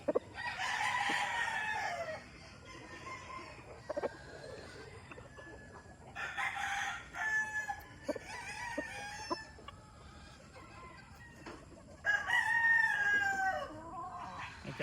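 A Stag Derby fighting rooster crows loudly and close three times, each crow a long, strained cock-a-doodle-doo, with softer clucks and scratchy farmyard noises in the gaps.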